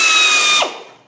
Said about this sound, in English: Now I'm gonna use a die grinder to make the size